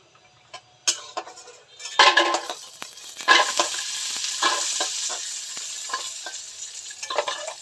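Sun-dried bori lentil dumplings fry in oil in a pan in a home kitchen, with bursts of sizzling and crackle mixed with spatula scrapes and clinks against the pan, no talk.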